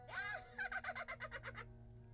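A parrot in the computer game Nancy Drew: Curse of Blackmoor Manor lets out a harsh squawk followed by a rapid, rhythmic run of clucking, gobbling calls, heard alone and close.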